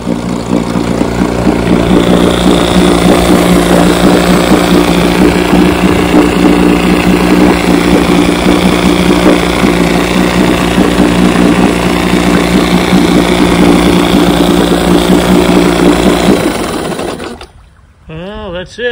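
A 1957 Evinrude 7.5 HP vintage outboard motor running close and loud at a steady idle-like drone, then cut off abruptly near the end, leaving near silence.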